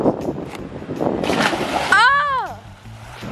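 Water splashes onto someone outdoors, a sudden loud splatter arriving amid close talk, followed by a high exclaiming voice as the splash fades.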